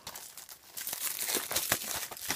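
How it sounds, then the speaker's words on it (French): Crinkling plastic wrap torn and peeled off a Venom Blu-ray/DVD combo case, close and continuous with sharp crackles and tearing bursts, no voices. "je vais le déballer pour vous montrer l'intérieur"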